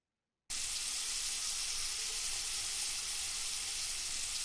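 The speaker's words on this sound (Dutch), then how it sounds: "Open de kraan en maak je handen nat." Water runs from an open tap onto wet hands, a steady, close hiss that starts abruptly and continues evenly without a break.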